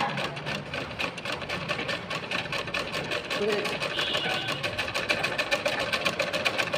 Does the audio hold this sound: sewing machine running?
yes